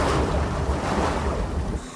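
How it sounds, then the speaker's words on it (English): Water lapping and surging in a harbor with boats nearby, a steady broadband wash with low rumbling swells and some wind noise on the microphone, continuous and fairly close, with no voices. "I can hear the sound of the water."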